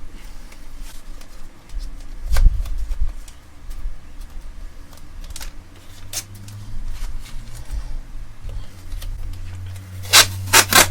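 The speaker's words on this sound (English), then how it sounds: "So I just use a bit of masking tape." Low-grip masking tape is stretched and pressed across the body of a left-handed Tele-style electric guitar kit, giving close rubbing, crinkling and scraping sounds with a few sharp tearing rips near the end.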